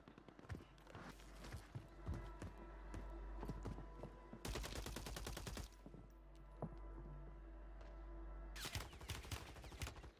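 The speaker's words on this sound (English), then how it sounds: "That guy is shooting me from all the way over there" Rapid automatic gunfire in an online shooter, fairly faint overall, with scattered single shots and two dense sustained bursts, a low engine-like drone underneath.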